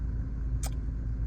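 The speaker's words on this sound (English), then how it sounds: "give it a quick rev for you to listen to. That's a nice smooth revving engine." A low-mileage 2011 Ford Focus engine runs close by with a smooth, steady low rumble and one brief click partway through.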